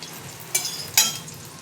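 Sliced bitter gourd sizzles in hot oil in a wok, a steady crackle with two sharp bursts of louder spattering, close and brief before cutting off.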